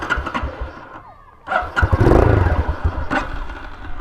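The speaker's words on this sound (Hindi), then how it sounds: "एग्जॉस्ट देखो भाई लगी है एकरा पॉविक की रेसिंग एग्जॉस्ट" A Hero Karizma ZMR motorcycle in neutral with an aftermarket racing exhaust revs in short, throaty bursts, loud and close, the exhaust barking with a rising roar before dropping back.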